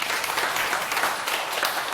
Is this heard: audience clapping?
yes